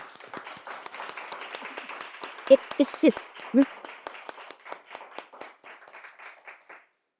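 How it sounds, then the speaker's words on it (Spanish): Audience applause at a socialist political talk as a speaker is introduced, a moderate patter of clapping under ongoing voices that thins out and fades toward the end. "Un fuerte aplauso"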